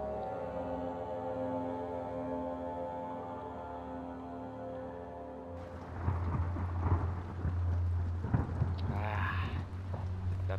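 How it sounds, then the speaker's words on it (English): A steady hum gives way to heavy rain and deep rumbling thunder, loud and continuous through the second half. "Lovely fucking rain."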